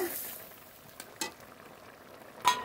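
Drumstick stem curry (sajne data chorchori) simmering in a pan, a soft low sizzle with a few brief stirring clinks and scrapes, quiet and close without talk.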